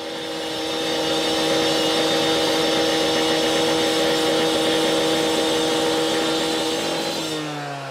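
Power saw cutting through 16-inch ductile iron pipe in the field, a loud, steady high-pitched whine with a constant grinding tone that holds for several seconds before winding down at the end.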